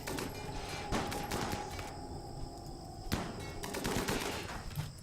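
Gunfire aimed at a ship in the video game Rimworld, scattered cracking shots in quick irregular bursts over a constant busy background hum, moderately faint.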